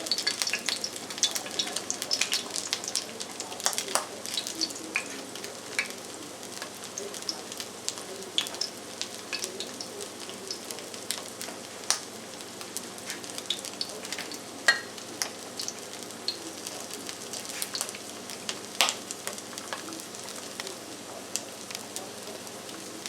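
Eel cakes made with wheat flour fry over medium heat in a pan, giving a steady, even sizzle with scattered pops and crackles throughout, with no talking.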